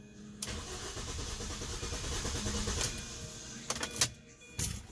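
A 2005 Mini Cooper with a cylinder 3 misfire cranking over during a compression test, its starter churning in a steady rhythmic chug for several seconds before a few sharp clicks and knocks.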